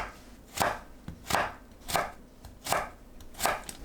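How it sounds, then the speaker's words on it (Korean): A kitchen knife julienning onion and carrot on a cutting board, six steady, evenly spaced chopping strokes, close and clear with no voices. "양파와 당근을 채 썰어 주세요."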